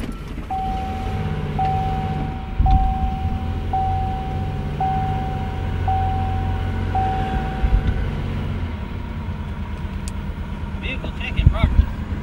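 A 1989 Buick Reatta engine idles and is given some throttle while MAF cleaner is drawn in, a steady close rumble under people talking, with a repeating electronic beep running for most of the clip.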